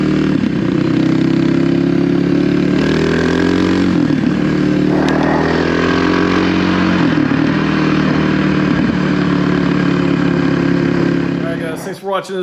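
A Kawasaki KLX300R trail motorcycle engine runs close and loud with a steady throaty idle and slight shifts in pitch, then cuts off abruptly near the end.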